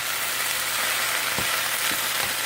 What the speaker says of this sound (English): I know the frying noise is kind of loud